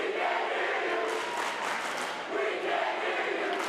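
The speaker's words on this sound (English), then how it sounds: "Get a little cheer off happening in the stands while we figure out what's going on." Student crowds cheer from the stands at a high school volleyball match between Lansing and St Thomas Aquinas, a dense, steady roar of voices and shouts with no break.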